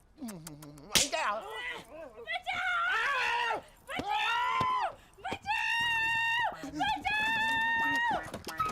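A woman screams in a Hindi comedy film scene, several loud sustained shrieks with a sharp slap-like crack near the start, nearby and dominant over brief talk.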